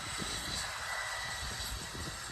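A fixed-wing airplane roars steadily overhead on a windy day, a broad, constant engine rumble mixed with gusty wind noise and no voices.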